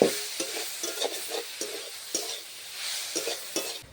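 Carrot and cabbage frying in a pan for a spring roll filling, with a steady close sizzle broken by regular scraping strokes of a stirring utensil, no voices.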